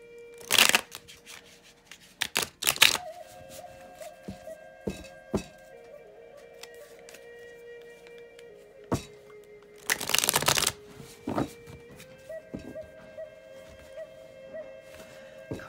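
Tarot cards shuffled close by, with two brisk riffling bursts and soft card handling between them, while a faint tonal hum plays underneath.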